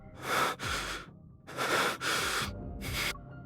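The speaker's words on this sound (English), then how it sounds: "Zayne's labored breathing shows how intense the pain is" Zayne, a character in the game Love and Deepspace, breathing hard and laboured: five heavy, ragged breaths in an uneven rhythm, close and alone, with brief quiet gaps between them.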